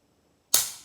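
A single sharp dry snap as the trigger of a Smith & Wesson 1911 pistol in .45 ACP breaks, loud and close, alone in quiet with a short decaying tail.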